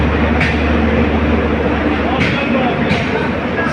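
Passenger train rolling along on an overnight journey, a steady loud rumble inside the carriage with occasional sharp clanks from the wheels and joints, heard from on board.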